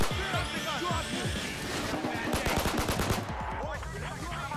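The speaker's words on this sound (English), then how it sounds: "I just missed like all those shots." Rapid bursts of pistol fire in Payday 2, a quick close run of sharp shots followed by a few more scattered cracks, mixed with other game noise.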